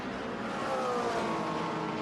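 Inside a Lotus race car at Circuit Park Zandvoort during a Dutch Supercars race, the engine roars steadily and loudly on board, its pitch climbing gradually under acceleration, with no one talking.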